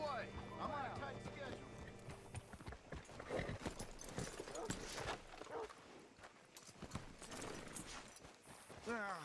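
Horse hooves clip-clop at a walking pace in Red Dead Redemption 2, steady and fairly close, mixed with game music, ambient noise and voices talking over them.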